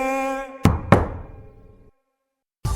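Two firm knocks on a door, a quick pair less than a second apart, land over a sustained musical jingle tone, then everything falls silent before a loud sound returns.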